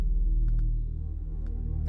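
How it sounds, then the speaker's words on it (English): A deep, guttural growl from a menacing creature in a horror video game, a low rumbling drone that holds steady throughout, with a few faint clicks above it and no speech. "The deep guttural noise you can hear now is infinitely more malevolent."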